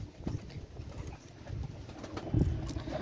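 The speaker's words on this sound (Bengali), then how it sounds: "মার্শাল্লাহ, অনেক সুন্দর কবুতর।" A pigeon gives low, soft cooing, faint and close, in a quiet space with a few light rustles and no speech.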